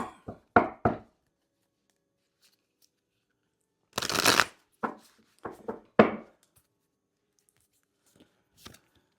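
Tarot cards being shuffled by hand in several short bursts: a quick riffle of flicks at the start, a longer dense shuffle midway, then scattered taps and slides, each close and crisp with silence between.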